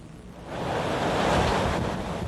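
Hurricane George's wind roars over pounding ocean surf in the Florida Keys, a loud, continuous rushing wash that swells and buffets the microphone, with no talking.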